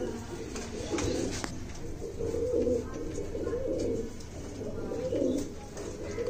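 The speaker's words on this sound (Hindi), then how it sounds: "ये आपके हाथ में फिर एक कबूतर दिख रहा है" Red-eyed Kasoori golden pigeon giving soft, low repeated coos close by, several rolling phrases over steady background noise.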